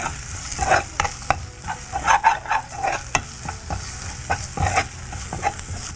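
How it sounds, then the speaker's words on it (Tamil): Ginger garlic paste frying in ghee for prawns, a close, busy sizzle with repeated scraping and stirring strokes, loud and continuous with no voices. "நல்லா இஞ்சி பூண்டு பேஸ்ட்டு இந்த சூடு படப்பட ஒரு ஃப்ளேவர் வந்துகிட்டே இருக்கும்ல"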